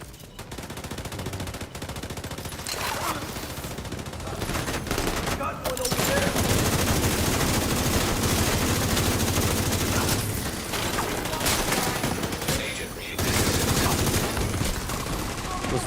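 Near-continuous rapid gunfire from snipers in the shooter video game The Division 2, with dense overlapping bursts and a few short gaps. It stays loud and steady under occasional talk.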